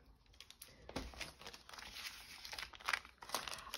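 Scissors snip and crinkle through paper while cutting out circles for a craft project, a soft, close, irregular rustling and cutting sound at low volume.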